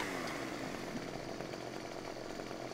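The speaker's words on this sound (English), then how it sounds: "Stump grinder." Stump grinder working in the Farming Simulator 17 video game, a steady buzzing motor roar holding a constant pitch for a couple of seconds, quiet and unbroken, with no talking.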